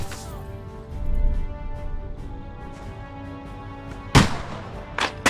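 Gunfire in Kingdom Come: Deliverance 2 as a low rumble of distant shots with a sharp, loud crack about four seconds in and a smaller report near the end, over a dense battle din.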